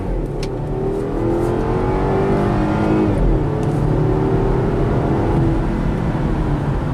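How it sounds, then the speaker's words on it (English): A 2018 BMW X1 accelerating hard from a stop, a loud continuous engine drone with rising tones as it pulls through the gears, heard from inside the car without talk. "we're going to go off the brake and on the gas fast"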